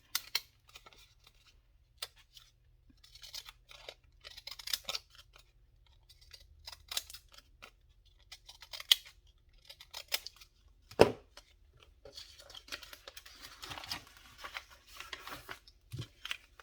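Scissors snipping paper for a collage, with many sharp close cuts in irregular bursts separated by quiet pauses and light paper rustling, with no speech.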